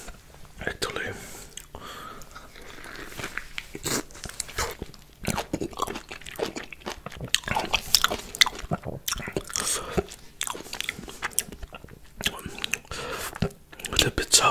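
A lemon is bitten and chewed close to the microphone, with wet squishing, juicy crunches and soft smacking in irregular bursts, plus the occasional quiet breath between bites.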